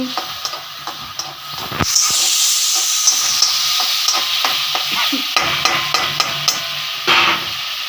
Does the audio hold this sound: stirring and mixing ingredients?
yes